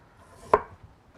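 A single sharp knife chop through food on a board, close and distinct, preparing ingredients for sour radish duck soup with one faint tap afterward.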